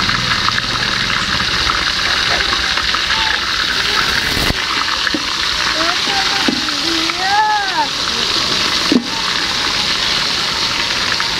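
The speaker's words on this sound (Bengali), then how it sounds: "এখন আমি লেগ পিসটাকে তেলের মধ্যে দিয়ে দিচ্ছি।" A leg piece of mutton drops into hot oil in a village kitchen and sizzles loudly and steadily throughout, a dense close frying hiss with a few brief splashes and scrapes, and no talk over it.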